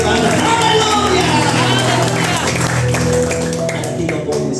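A church congregation claps for God at a healing revival service, dense continuous applause mixed with crowd noise and voices, steady and loud throughout.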